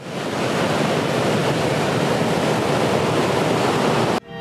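Loud, steady rush of water and wind used as sound effects for a carnival production, a dense continuous roar that cuts off abruptly near the end.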